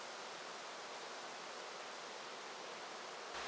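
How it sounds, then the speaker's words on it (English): Water draining down forested hillsides into a brook in an old-growth birch and boulder woodland, a steady, even rush of flowing water that holds constant throughout, with no voices. "The water draining down these hillsides into the brook provides perfect habitat for species like yellow birch."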